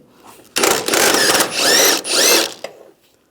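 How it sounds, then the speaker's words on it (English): A 16mm socket spins out bolts on the side of a 1998-2010 Volkswagen Beetle during a speed sensor replacement, giving a sharp start and then two or three close, loud bursts of mechanical whirring separated by brief pauses. "the 2 bolts on the side, we're going to use a 16mm socket. Take those out."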